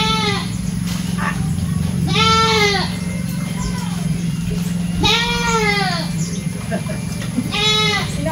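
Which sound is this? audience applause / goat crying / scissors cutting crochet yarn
goat crying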